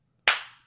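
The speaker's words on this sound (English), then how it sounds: "my clapping represents when her mouth actually starts moving" A single sharp hand clap, close and crisp, with a short decay into silence, used to mark lip-sync timing.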